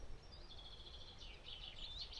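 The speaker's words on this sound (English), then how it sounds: "I don't know if you can hear the birds singing." Birds chirp and sing faintly along a cycling track near a ferry landing, short repeated calls over steady low rumble from riding.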